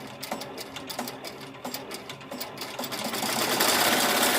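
A Melco EMT16X embroidery machine runs at 1,000 RPM with a close, rapid, rhythmic clatter of needle strokes. Near the end the sound swells into a louder, denser whirring.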